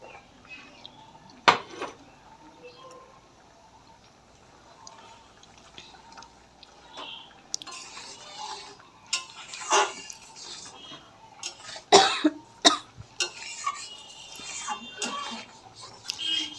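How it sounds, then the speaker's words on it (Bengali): A spoon stirs and mixes cucumber dal in a pot, giving scattered metallic clinks and scrapes, sparse at first and then quicker and more clustered, close by and fairly quiet. "এই যে ভালো করে ডালটাকে নেড়ে দিচ্ছি, মিক্সড করে নিচ্ছি।"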